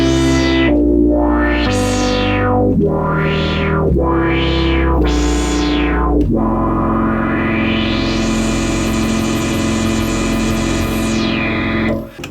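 A Moog Voyager synthesizer plays loud, distorted notes with sweeping filter rises and falls, then settles into a long sustained tone with a slow upward sweep.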